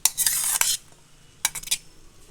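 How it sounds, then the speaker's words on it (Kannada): Fried ingredients and cooked tomato being tipped into a mixer jar, two short bursts of scraping and clattering from a spoon against the jar with a quiet pause between them. "ಮಿಕ್ಸಿ ಜಾರಿಗೆ ಎಲ್ಲ ಆಗಲೇ ಫ್ರೈ ಮಾಡಿ ಇಟ್ಕೊಂಡಿದ್ವಲ್ಲ ಅದೆಲ್ಲ ಹಾಕ್ಕೊತಾ ಇದ್ದೀನಿ"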